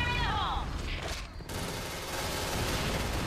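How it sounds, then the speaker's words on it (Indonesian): A gunfire firefight in the Point Blank video game during a Downtown esports match, bursts of rapid shots crackling under a commentator's voice. "Kita terjadi baku tembak sana."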